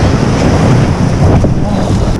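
Surf and waves roll steadily on a beach as a Hobie kayak is launched through the break, with heavy wind buffeting the microphone throughout and no speech.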